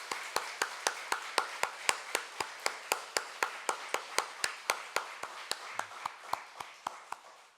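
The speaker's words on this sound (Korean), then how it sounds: "우리 크게 박수 한번 했으면 좋겠습니다" A congregation clapping hands together in unison at a Thanksgiving Sunday church service, a steady rhythmic beat of about thirty sharp claps that gradually softens toward the end.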